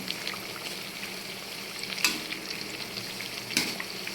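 Banana bajji frying in hot oil, a soft continuous sizzle and bubbling, with two sharper pops of stirring or spattering about a second and a half apart.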